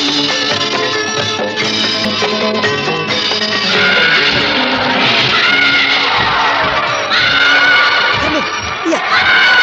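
A horse neighs loudly and close in an Indonesian radio-style audio drama, a long whinny set over a dense bed of music and effects, with voices in the mix.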